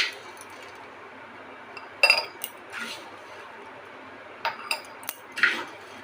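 Puffed rice scooped into a tin container, heard as a few separate light clinks and rattles against the metal with quiet pauses between them.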